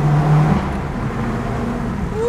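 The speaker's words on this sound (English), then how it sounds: "Windows down, drop a gear, maybe two, one more maybe," A 2015 Subaru WRX engine rumbles loudly up close, with a steady low drone and a rising tone toward the end as it accelerates after downshifting.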